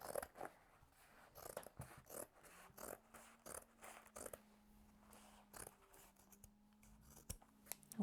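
Scissors snip through denim jeans along the leg crease in a quick, irregular series of crisp close cuts, with a faint steady hum underneath.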